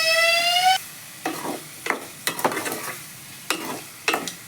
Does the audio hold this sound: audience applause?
no